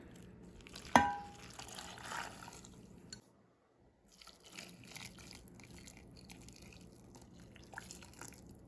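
Boiling water poured into a pot holding cheddar sauce mix, butter and milk, a faint liquid splash and drip after a sharp clink, with soft pouring and stirring sounds following.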